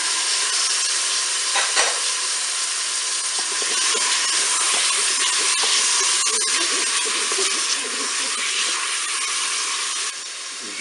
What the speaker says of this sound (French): Je vais maintenant ajouter le saumon.